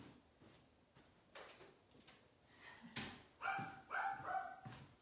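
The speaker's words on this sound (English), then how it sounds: "Wouldn't be a class without the dog barking at least once, right?" A dog barking indoors during a fitness class, faint at first with soft knocks and thuds, then a few distinct barks in a short cluster near the end, fairly distant.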